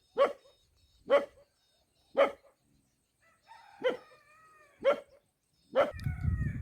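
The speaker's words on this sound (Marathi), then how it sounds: "लगेच लागला बघा भुंकायला" A dog barks six times outdoors on a farm, sharp single woofs spaced about a second apart, fairly close, with faint bird tones and a rougher noise at the end.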